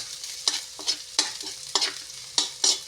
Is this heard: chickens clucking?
no